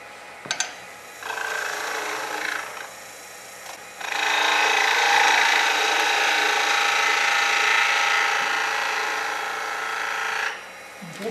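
A wood lathe turns a taper on a wooden Christmas ornament globe, a steady scraping cut from the tool against spinning wood, with a shorter cutting pass first, then a longer sustained one, close and fairly loud.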